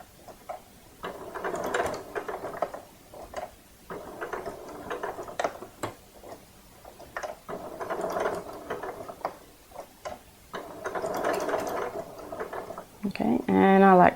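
Sewing machine stitching a gingerbread man softie in short bursts, each run of rapid mechanical clatter broken by brief pauses for turning tight corners, close and fairly loud, with a louder whir at the end.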